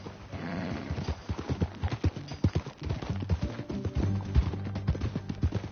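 Horse hooves clip-clop in a brisk, steady rhythm close by in the video game Red Dead Redemption 2 on PS4, with a low background drone and faint music-like tones.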